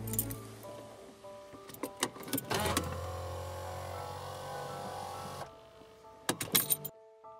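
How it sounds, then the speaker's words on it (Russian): Electric steering column motor in a Mercedes W211 raising the steering wheel after the key is pulled: a faint, steady whirring hum lasting a few seconds, bracketed by soft key and interior clicks and jingles, close up in a quiet cabin. "Как только я снимаю ключ, руль поднимается, чтобы я легко выходил из автомобиля."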